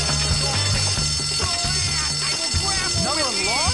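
A fire alarm rings in the school setting of the PS2 game Bully, a steady electronic tone continuing throughout the clip beneath game music and loud overlapping character voices.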